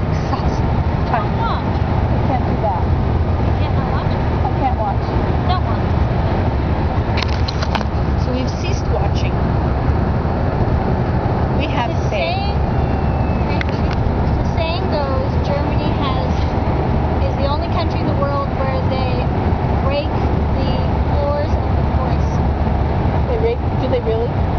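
A car cruising on the German Autobahn at 160 km/h fills the cabin with a steady, loud roar of road and wind noise throughout, while people talk over it.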